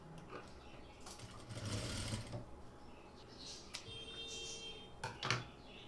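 A home sewing machine stitches a sleeve for a chudithar top or kurti, whirring in short bursts with faint mechanical clicks, fairly quiet and close, with no talking.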